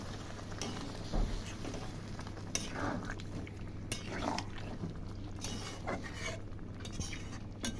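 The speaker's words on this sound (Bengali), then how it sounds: "এর মধ্যে আমি দিয়ে দেব জল একটু নাড়িয়ে দেব হালকা করে" Okra masala being stirred in a pan after water is added, a spoon scraping and clinking against the metal with soft sizzling, close and steady with no talk.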